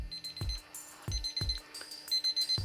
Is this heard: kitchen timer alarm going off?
yes